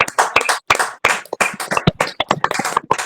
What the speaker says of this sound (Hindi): भी एक ऊंचे ताली के द्वारा परमेश्वर की महिमा करें।